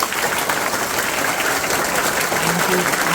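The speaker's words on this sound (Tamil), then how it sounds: "ரொம்ப ரொம்ப ரொம்ப ரொம்ப ரொம்ப ரொம்ப ரொம்ப ரொம்ப ரொம்ப பிடிச்சிருந்துச்சுன்னா நிறைய தடவை கைத்தட்டுங்க" Children at a government middle school clap their hands loudly and continuously in a dense, close wash of applause, with voices mixed in.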